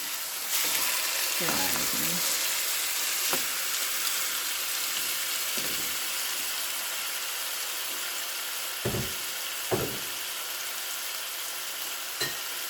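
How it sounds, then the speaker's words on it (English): Four chicken breasts searing in a pan for chicken Alfredo pasta, a loud continuous hiss and sizzle with a few brief clatters and spatters, no speech. "I'm gonna sear these up until it's like a golden brown"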